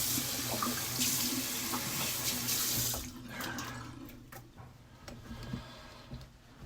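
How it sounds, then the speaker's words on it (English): A tap runs cold water into a sink for a rinse during a wet shave, a loud steady gush that stops around halfway, followed by softer drips, taps and small handling sounds. "Get cold water rinse."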